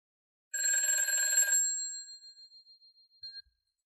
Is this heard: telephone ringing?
yes